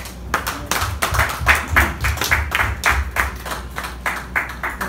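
A church congregation claps in praise, many hands striking in a quick, fairly regular rhythm, loud and close with no talk over it.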